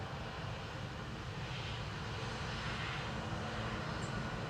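A Ryanair airliner bound for Lanzarote at Manchester Airport gives a continuous, even engine rumble and hiss, fairly distant and steady, with no voices.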